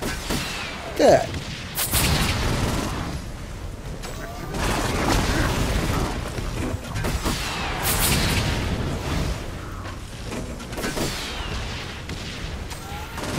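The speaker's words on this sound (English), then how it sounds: "These rockets suck." Rockets firing in the video game Saints Row: Gat Out of Hell, repeated booming blasts and gunfire-like bursts over a dense game mix, with a voice talking throughout.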